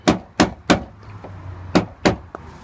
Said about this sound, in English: let's get the rubber mallet out and the flathead and give some taps on that to get it rotating